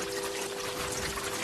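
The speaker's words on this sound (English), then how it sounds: "It is remarkable to think of all this water just coming down." Glacier meltwater pouring and dripping at the snout, a steady close rushing wash of water with a faint constant tone underneath.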